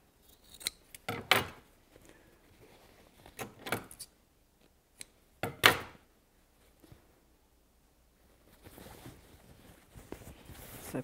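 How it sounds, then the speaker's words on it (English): Scissors snip off the corners of fabric while sewing a BBQ roll mat: several sharp, crisp cuts in small clusters, close and clear, with quiet rustling of cloth between and at the end. "just snip off those corners, and then you don't have so much bulk"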